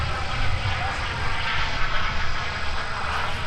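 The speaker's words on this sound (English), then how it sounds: "they are taxiing to the runway" An airliner bound for Dublin taxis toward the runway at Minneapolis–Saint Paul airport, a steady broadband engine roar heard from a distance, continuous and even throughout.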